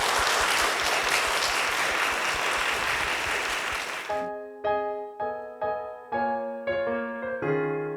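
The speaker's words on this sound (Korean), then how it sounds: "여러분 큰 박수로 환영해 주시기 바랍니다." Audience applause welcoming a husband-and-wife worship duo at a church book concert, a dense steady clapping that cuts off abruptly halfway, giving way to sustained piano chords.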